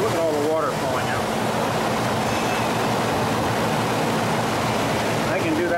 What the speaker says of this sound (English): look at all the water falling out.